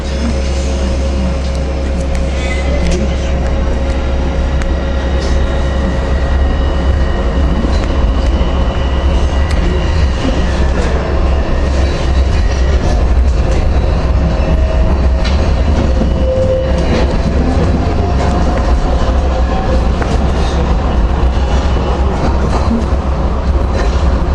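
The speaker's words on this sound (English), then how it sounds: "Now I'm going to go get the tram to Piccadilly and do my train spotting there." Trams and trains at Manchester Piccadilly station rumble continuously with steady low engine drone, wheel clatter and occasional squealing, a busy loud rail setting throughout with no talk.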